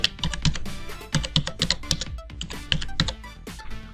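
A phone number being typed on a computer keyboard, with rapid, close, clicky keystrokes in an irregular, fast rhythm, heard alone without talk.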